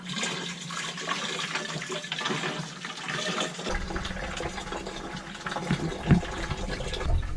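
Shower water runs steadily aboard a sailboat at sea, a broad continuous hiss and splash of spray that stays loud and even throughout, with a slight shift in tone partway through and no voices.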